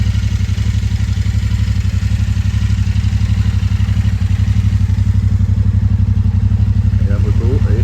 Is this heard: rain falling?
no